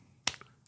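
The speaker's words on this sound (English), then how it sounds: "And he claps" One crisp hand clap from a character, a single short sharp crack that is near and stands out against a quiet background.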